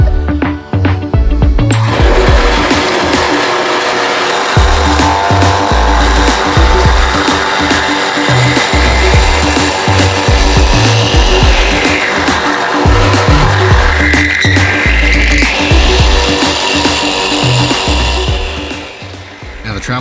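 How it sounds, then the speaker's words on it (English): A drill press whirs steadily at close range, drilling holes into wood with grinding surges and brief pauses between passes; no one speaks. "it was time to drill the holes for those brackets."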